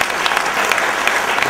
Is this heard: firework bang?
no